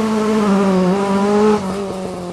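Ford Mark II Escort rally car racing hard along a stage, its engine loud and close, holding a steady high rev note before dropping briefly around a gear change and pulling on again.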